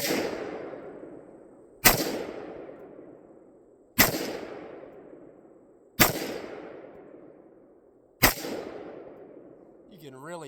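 AR-15 rifle built on a Stag lower and BCA upper firing PMC .223 rounds outdoors, five sharp, loud single shots spaced about two seconds apart, each with a rolling echo tail fading away before the next.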